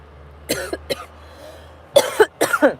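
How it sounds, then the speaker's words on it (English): A few close, loud coughs: a couple of single hacks, a pause, then a rough cluster of throaty coughs. "I don't know why I'm coughing."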